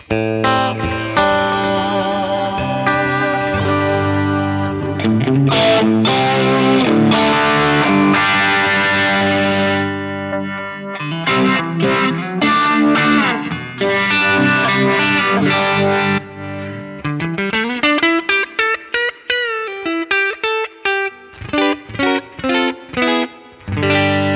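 A loud, distorted electric guitar through an Axe-FX III amp modeler plays a fast solo with sustained bends, quick runs and short pauses, saturated and close, with no voices.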